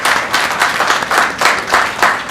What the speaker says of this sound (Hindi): उसके लिए सरकार को एक बार ताली बजा के सब लोग धन्यवाद करिए।